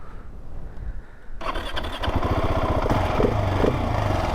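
A 2023 Husqvarna 701 Supermoto motorcycle starts up nearby: a quiet whirring starter crank gives way to a sudden loud bark as the single-cylinder engine fires, then settles into a throbbing, uneven idle.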